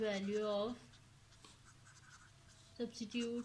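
Pen scratching on paper while solving a maths exercise, soft strokes in the quiet stretch between a man's spoken explanation at the start and end.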